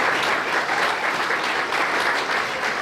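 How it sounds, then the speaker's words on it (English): An audience at a 15th Congressional District town hall in Ohio breaks into steady, sustained applause, a dense wash of clapping from many hands filling the room. "you can clap for that."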